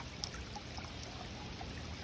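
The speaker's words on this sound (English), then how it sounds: "You can hear that beautiful running water that I love." Running water in a small garden pond, a steady soft pouring trickle with light breeze noise, faint and continuous with no talk.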